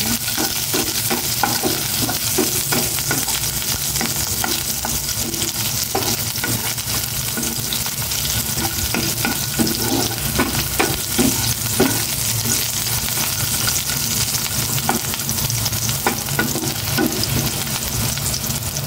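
Onion frying in a pan gives a loud, dense, continuous sizzle and crackle up close, with a steady hiss throughout and stirring noises mixed in.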